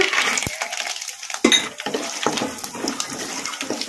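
Peanuts frying in hot oil with mustard seeds and cumin, a close soft sizzle broken by sharp clinks and scrapes of a spoon against the pan.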